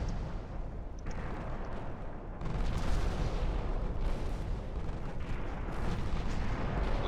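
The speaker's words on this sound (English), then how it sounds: "especially with our Bofors guns, they're able to start a lot of fires because they're just firing so rapidly" Bofors naval guns firing rapidly in the warship game Ultimate Admiral: Dreadnoughts, a dense, rumbling wall of cannon fire and shell bursts that grows louder after two seconds and stays continuous, with no talking.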